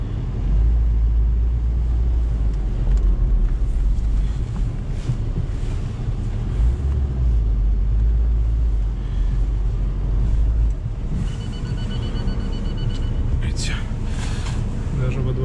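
A Lada Niva Travel on stock tires drives a slushy, thawing road to a spring, with a steady, loud low rumble of engine and road noise and wind buffeting throughout, while someone talks over it.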